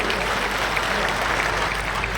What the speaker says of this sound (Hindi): तालियां बजा के स्वागत करेंगे सभी